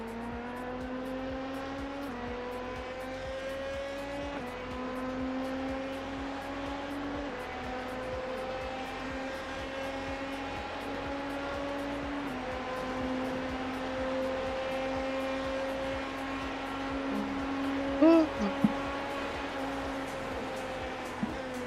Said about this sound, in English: There's a faster class car approaching.